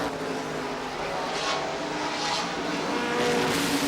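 NASCAR Winston Cup race cars roar around Watkins Glen in 1986, a continuous loud engine drone with engine notes that rise and fall as cars pass.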